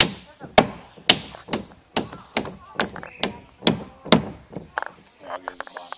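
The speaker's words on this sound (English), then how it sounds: "I just hammer it down." About ten sharp, evenly spaced hammer strikes ring out close by, then trail off into a few lighter taps.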